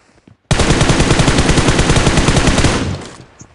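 Rapid automatic gunfire from a BGMI battle royale match sounds as one sustained burst of about two and a half seconds, loud and close, then stops.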